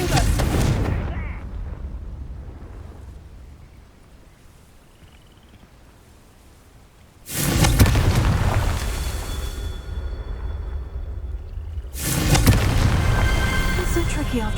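A Confringo fire spell in the Hogwarts Legacy game erupts in loud, sudden blasts, one at the start and two more later, each a broad booming crack that lingers with ringing tones before fading.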